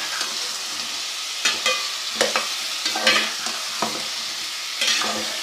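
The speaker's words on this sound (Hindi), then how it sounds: "इसको हम थोड़ा सा जो है वो चम्मच से चलाते हैं" A spoon stirs turnips frying in ghee in a pan, scraping in repeated strokes over a steady, close sizzle; no voices.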